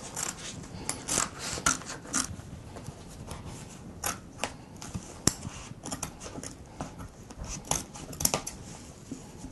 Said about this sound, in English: we're going to cut away the excess fabric